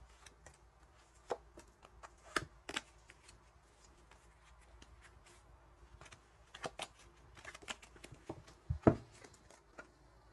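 Tarot cards handled and drawn from a deck, soft scattered rustles and sharp flicks and snaps, quiet and close, with a few louder slaps of cards being set down.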